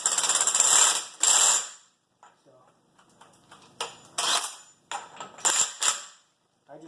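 An impact wrench snugs up brake parts on a 1988–1998 Chevrolet K2500 truck in a series of short, loud rattling bursts separated by pauses, with faint voices and shop sounds in the gaps.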